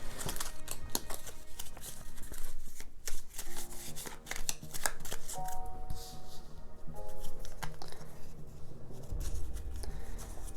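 Cards from One Deck Dungeon, an Asmadi Games card game, being shuffled by hand on a tabletop: a rapid, close run of papery riffles and flicks lasting several seconds, with faint tones underneath and no talking.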